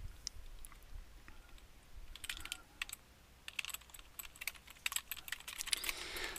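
Quiet typing on a computer keyboard, with soft irregular clicks that come in bursts and grow denser toward the end, and no talking.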